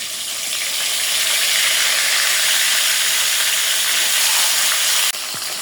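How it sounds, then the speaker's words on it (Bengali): Salted fish heads fry in hot oil with a loud, continuous hissing sizzle that holds steady throughout before dipping slightly at the very end. "লবণ মাছের মাথাগুলো একটু ভাজি করে নেব"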